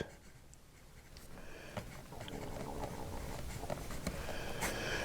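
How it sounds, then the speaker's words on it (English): A PenBBS 480 fountain pen's nib scratches and glides across paper, with a soft continuous scratchy texture and a few small tapping strokes, close and quiet with no talking. "this nib writes all the time, every time."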